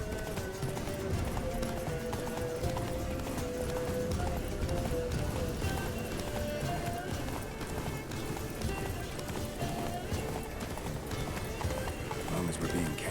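Roach the horse galloping hard in Witcher 3 Blood and Wine, rapid continuous hoofbeats close up under a busy mix of sounds, with a voice talking over it.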